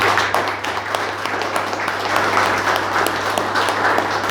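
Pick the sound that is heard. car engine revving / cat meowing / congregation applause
congregation applause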